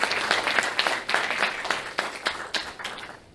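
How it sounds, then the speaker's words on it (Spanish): A room full of people at a microelectronics conference applauding steadily, dense clapping that holds for a few seconds and then thins out toward the end. "Un aplauso, por favor, de inicio."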